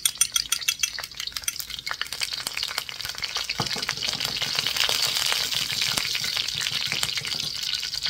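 Garlic stirs and fries in a hot pan for shrimp pad thai, giving a steady close sizzle broken by scraping and clattering stirring strokes.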